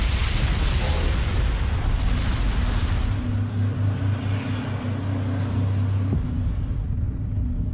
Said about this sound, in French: Les contrôleurs aériens entendent les explosions